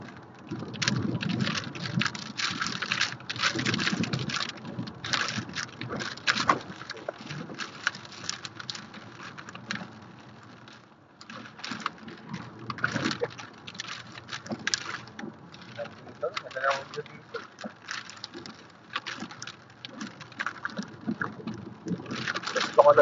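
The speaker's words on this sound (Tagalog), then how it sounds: "Ito na yung bagyo." Storm wind and rain batter a car on a road trip through Ireland, a steady roaring wash of noise with gusty swells that runs throughout and dips briefly midway.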